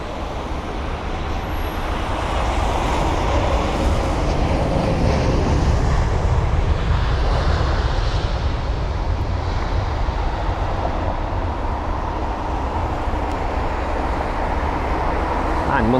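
A large airliner touching down at London Heathrow, a steady loud roar of jet engines and rushing wind noise running through the whole stretch, close and continuous.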